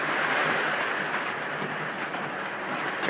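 A model train rolls steadily along its layout track with a continuous rumbling, faint clatter, no voices, holding an even level throughout.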